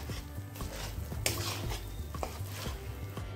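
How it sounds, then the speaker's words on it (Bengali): Mashed taro paste stirred in a pan over a low gas flame, repeated scraping and clinking of a spoon on metal over a soft sizzle, close and rhythmic with no talk. "কচু বাটাটা দিয়ে ভালো করে মিশিয়ে নেব। আর এখন গ্যাসের ফ্লেমটা একদম লোতে করা আছে।"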